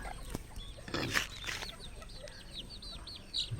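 Chickens cluck and chicks peep in a steady run of short calls, close by, with a rustle of wings and a rooster-like note over low farmyard background.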